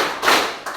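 Group of scouts doing a rhythmic clap pattern at a school orientation event, two quick loud bursts of hands clapping together close by, the first fuller and longer than the second.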